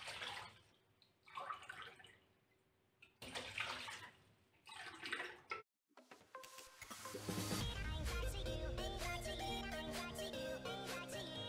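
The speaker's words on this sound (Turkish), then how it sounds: "Şöyle 15 su bardağı su döküyoruz." Lukewarm water poured glass after glass into a cooking pot for yogurt-based yayla soup, several splashy, gushing pours with short pauses between them, before music takes over for the second half.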